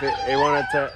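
An aggressive stray dog caught in a net in Sri Lanka whines and yelps in a high, strained, wavering cry, close and continuous for a moment.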